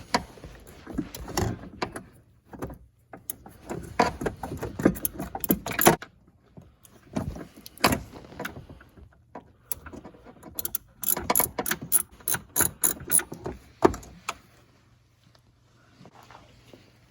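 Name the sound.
ratchet with 13 mm deep socket removing battery mount bolt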